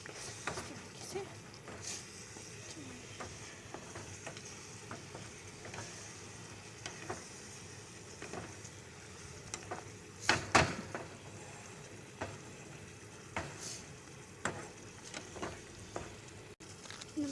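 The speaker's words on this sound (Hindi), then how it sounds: "बाकी डाल देंगे मसाला और हम इसे चलाएंगे" Chicken with green masala frying in a pan gives a low, steady sizzle under faint spoon-stirring scrapes and occasional clinks, with a louder clatter midway. A voice speaks quietly at times.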